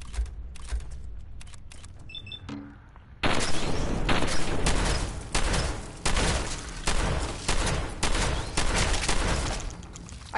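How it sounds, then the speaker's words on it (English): Gunfire in the video game Fallout 4: after some scattered clicks and small sounds, a gun fires repeatedly in loud, close bursts, each shot booming with a short decay in an uneven rhythm. "We shoot it with the freaking gun."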